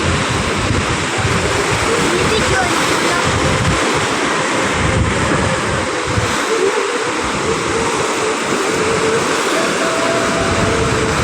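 Sea waves wash against the Manila Bay shore at Navotas in a loud, continuous roar of surf, with wind buffeting the microphone throughout and no voices.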